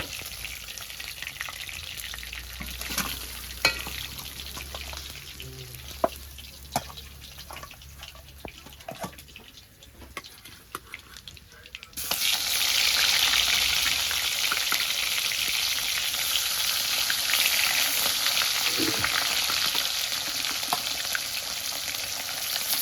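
Pieces of fish frying in hot oil for a potato and fish curry, a faint intermittent sizzle with drips that suddenly jumps to a loud, steady, close frying hiss as fresh fish is dropped into the pan.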